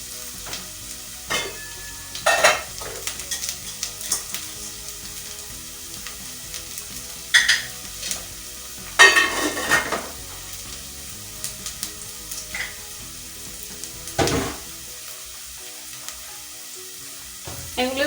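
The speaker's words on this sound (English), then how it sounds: "So I want to put my garlic so that they can cook together with" Garlic and onions fry in a pan, a soft continuous sizzle broken by repeated louder bursts of stirring and scraping, close up and with no talk.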